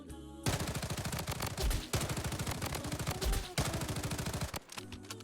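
Rapid automatic gunfire from the Bloodstrike shooter game, with long dense bursts of fast shots broken by brief pauses and ending in a few scattered shots, loud and close.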